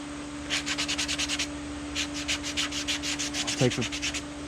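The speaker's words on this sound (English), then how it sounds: "rough sander here, and I'll smooth down a lot of the texture" Rough sander smoothing the texture on carved wooden rock habitat bases, a run of rapid rasping strokes up close, pausing briefly, then another burst of quick scrubbing strokes.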